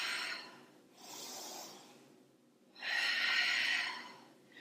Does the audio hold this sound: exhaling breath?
yes